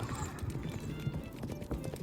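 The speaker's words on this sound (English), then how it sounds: "I dig my heels into the horse's side to make a gallop" Galloping horse hooves in the video game Love and Deepspace, a rapid, steady clip-clop beat close up under a busy background.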